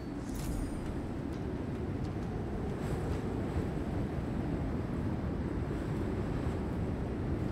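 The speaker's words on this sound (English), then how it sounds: "Wow, it's windy up here." Steady wind roaring across a high rooftop in the video game Hitman 3, a constant low rumbling rush that holds at the same moderate level throughout with no talking.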